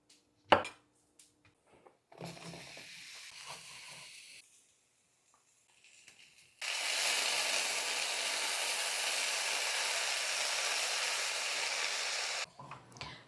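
Chopped mushrooms and their stems, salted, cooking in a pan: a few knocks and clatters, then a quieter sizzle, giving way to a loud, steady hiss of frying that runs unbroken for several seconds before cutting off.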